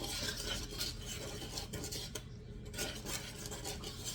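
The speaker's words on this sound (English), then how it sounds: "stir that tablespoon of wheat germ into your dry ingredients thoroughly" Wheat germ stirred into dry muffin ingredients for rosemary muffins: a steady, close scraping and light clinking of a utensil against a bowl, continuous for several seconds with no talking.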